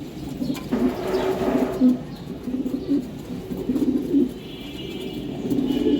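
Club racing pigeons coo close by in a repeated, throaty low rhythm, with a few soft chirps mixed in.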